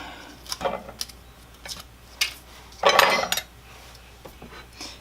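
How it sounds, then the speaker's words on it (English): A utensil stirs frosting in its container before spreading it on a carrot cake, giving a few scattered clinks and scrapes, with one louder scraping stir near the middle, close and quiet. "we're going to stir it up a little bit and make it a little bit more spreadable."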